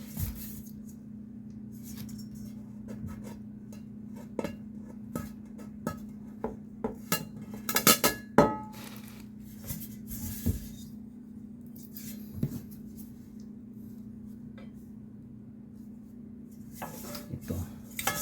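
A diamond-coated non-stick frying pan being unboxed, with scattered rustles, light taps and a cluster of sharp clinks and knocks midway, quiet and close over a steady low hum.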